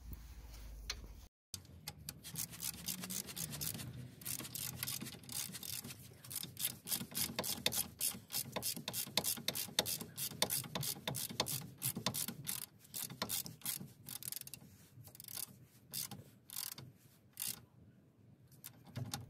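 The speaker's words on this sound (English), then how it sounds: "just gonna tighten this nut here" A ratchet tightens a 16mm nut on a Nissan Note lower suspension control arm, giving a long run of rapid, even clicks up close that pause briefly and then keep going.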